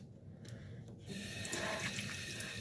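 A tap gushes into a sink as water runs for rinsing, starting quieter and swelling to a steady, close rush after about a second, with no talk.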